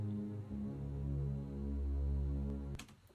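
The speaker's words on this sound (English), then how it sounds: "We get some low end coming from this sub pad here, and also this is like a kind of cello." A low sub pad and a cello-like tone layered together in a music mix, a deep sustained humming drone that swells and then cuts off abruptly near the end, with no talk.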